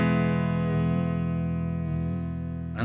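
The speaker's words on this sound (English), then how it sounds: "you can hear what it actually is a pitch vibrato." An MP Custom FX Voodoo Vibe pedal with all controls set to the middle, giving a pitch-vibrato chorus on a sustained guitar chord that wavers in a steady slow cycle, heard alone and close.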